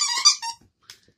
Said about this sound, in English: Then I got this pet toy squeaker squeaks,